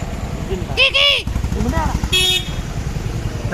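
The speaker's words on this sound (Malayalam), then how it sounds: "ഹോണടി ഹോണടി" In crowded, slow-moving traffic, two short vehicle horn blasts ring out close by over motorcycle engine rumble, while people talk through the scene.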